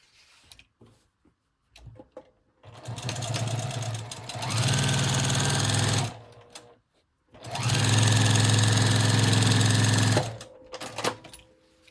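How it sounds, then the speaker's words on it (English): A sewing machine stitches two fabric pieces together along one edge in two long, loud, steady runs of rapid mechanical whirring, separated by a brief pause, with faint handling clicks before and after. "So I'm going to sew them together along one edge."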